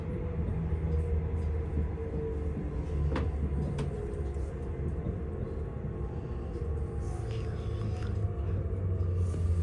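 A Northern train pulls into Heaton Chapel station, heard from on board as a continuous low rumble with rail noise and faint squeals throughout.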